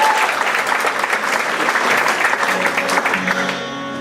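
Audience applause for a singer at Madison Idol 2019, a dense, loud crowd clapping that holds steady and then begins to fade near the end.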